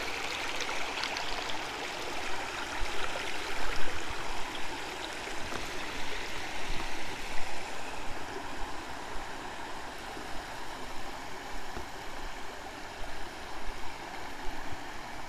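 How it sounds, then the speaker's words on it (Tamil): Water flows steadily in a stream beside a temple at Vazhukkuparai near Salem, a continuous broadband rushing and babbling that stays fairly loud and close throughout, with no voices over it. "தண்ணி சூப்பராக போயிட்டு இருக்கு பாருங்கள்"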